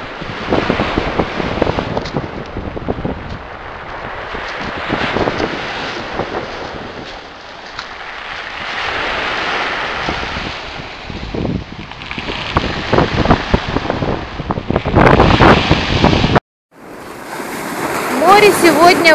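Sea waves and gusty wind on an empty beach at Gudauta, Abkhazia, a steady roar of surf with wind buffeting the microphone, loud and continuous, with a brief dropout near the end. Someone talks over it at times.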